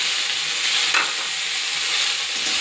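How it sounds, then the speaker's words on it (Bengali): Ridge gourd, okra and potato being stir-fried into a curry with salt and turmeric, a steady close sizzle with occasional scraping stirs of the spatula, heard alone without voices. "ঝিঙে ভেন্ডি আলু দিয়ে একটু মাখা করে তরকারির মতো করে নিচ্ছি"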